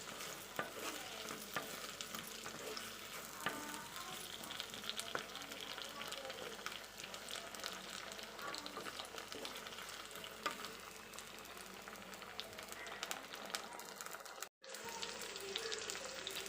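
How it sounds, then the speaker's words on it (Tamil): Brinjal pieces sauté in oil over a medium flame, giving a soft, continuous sizzle with occasional stirring scrapes, faint and steady throughout, with a brief dropout near the end. "கொஞ்சம் மீடியம் ஃப்ளேம்லேயே வச்சு நல்லா நம்ம எண்ணெயில் கத்திரிக்காயை வதக்கிக்கலாம்"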